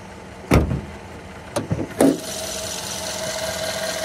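A 2015 Mercedes-Benz GL550 with a twin-turbo V8, engine running with the hood open: three sharp clunks or clicks come first, then a steady low idle hum settles in and continues evenly.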